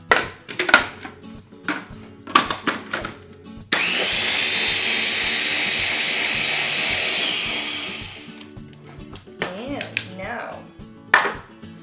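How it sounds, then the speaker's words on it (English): A kitchen blender whirs loudly and steadily for about four seconds while mixing crepe batter with milk, with clattering kitchen sounds and handling noises before and after. "Blend again."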